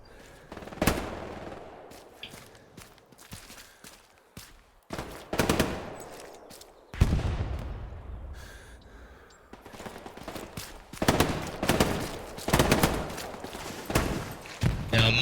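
Gunfire in a squad-based shooter video game: loud bursts and single shots spaced irregularly across the stretch, with quieter gaps and battle noise between volleys.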